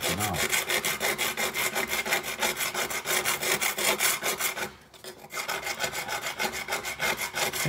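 Grime being scrubbed off tiles in a fast, steady back-and-forth rhythm of harsh rasping strokes, close and loud, with a brief pause near the middle before the scrubbing resumes.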